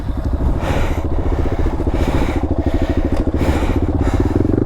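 A dirt bike engine runs in neutral after a fall while climbing the Sierra Pelona, a loud, close, rapid pulsing idle that stays steady, with faint clattering and no speech.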